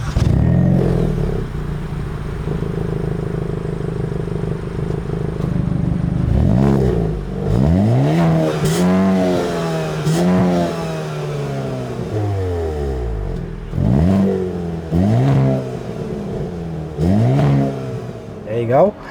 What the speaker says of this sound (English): exclusive variable dual tip exhaust system, sounds absolutely amazing.